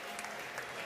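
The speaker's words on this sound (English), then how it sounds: "The crowd are going pretty wild in here" A velodrome crowd cheers and applauds steadily during the final laps of a UCI track world hour record attempt, with dense clapping and a few brief louder swells.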